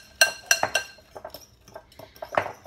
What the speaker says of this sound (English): So I'm going to mix that in.